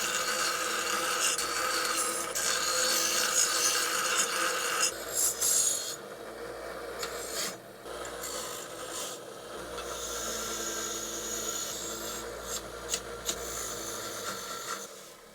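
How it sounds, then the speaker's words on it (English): Metal piece on a homemade backyard rollercoaster cart being ground down, a loud continuous abrasive rasp that dips briefly and resumes in sustained passes, with no talking. "so we're going to grind it down and make it look a little nice."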